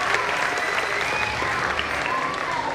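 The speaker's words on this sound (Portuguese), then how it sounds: "palmas para ele" Crowd applause at a large public event in Ariquemes, with dense, even clapping throughout and a whistle-like tone and faint voices mixed in.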